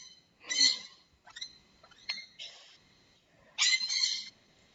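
A pet bird calls from inside a room, letting out a few sharp, bright squawks and chirps in short bursts separated by quiet gaps, close and fairly loud.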